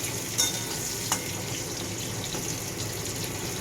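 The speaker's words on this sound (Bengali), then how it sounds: "যে আলুটা যাতে ভাজা ভাজা হয়ে যায়" Potatoes fry in a pan with a steady, hissing sizzle and a couple of brief clinks from a utensil, no talking, at moderate volume.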